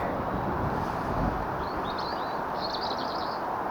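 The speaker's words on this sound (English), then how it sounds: "Lovely birdsong." Birds sing in short, faint chirping phrases beside a flooded river, heard far off through steady wind and rushing-water noise.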